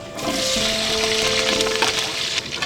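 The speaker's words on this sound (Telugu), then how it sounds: "చికెన్ పోపేసేస్తున్నా" Four kilos of chicken frying with onion, green chili and curry leaves in a pot over a wood-fired stove, giving a loud, steady close sizzle with a few brief stirring scrapes.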